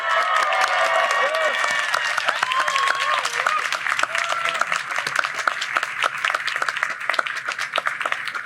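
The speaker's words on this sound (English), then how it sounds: "give a round of applause to the faculty and staff who supported you throughout law" Audience at a 2024 law school commencement applauds faculty and staff, a sustained crowd clapping that stays loud and dense throughout with a few brief voices mixed in.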